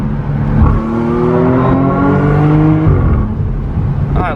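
A tuned 400 HP Audi S5 under launch control builds a loud, close engine roar that rises through the revs, briefly drops at a shift, then pulls on, with no voices.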